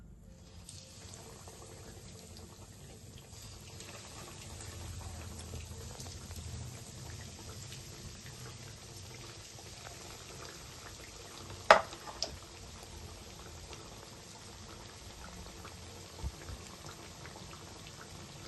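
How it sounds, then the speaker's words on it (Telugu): Veg cutlets deep frying in hot oil on a stove, a steady soft bubbling sizzle throughout with a couple of sharp pops near the middle and later. "ఆయిల్ వేడైంది. స్టవ్ లో ఫ్లేమ్లో పెట్టుకోవాలి. ఇప్పుడు మనం ఫ్రై చేసుకుందాం."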